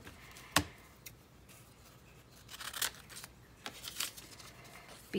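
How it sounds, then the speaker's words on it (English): A few sparse, quiet snips of scissors cutting magazine pages in half, with brief papery rustles between cuts in an otherwise hushed room. "I almost feel like let's cut these in half again"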